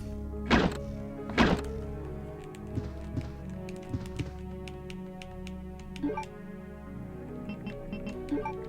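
Bow gun fired repeatedly in Resident Evil 2 on the Nintendo 64: two loud, hollow thunks close together, then a run of softer, evenly spaced ticking thuds.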